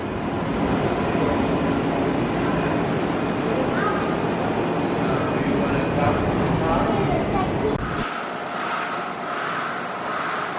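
A Sydney light rail tram rumbles and hums steadily at Railway Colonnade, loud and continuous, before the sound drops abruptly near the end to a quieter, thinner tone.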